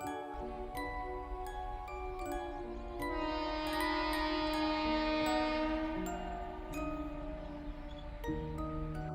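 Bundelkhand Express train sounding its horn in a long, loud sustained blast over steady rumbling rail noise, with a few small metallic clinks.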